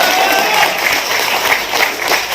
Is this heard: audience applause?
yes